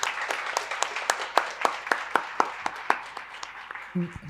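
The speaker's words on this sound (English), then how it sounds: "So may we please have a huge round of applause for all of them." Applause for a conference panel discussion, sounding like a modest group clapping in a hall: rhythmic, distinct claps that rise and fall in a loose pulse, fairly close, fading toward the end as a voice begins.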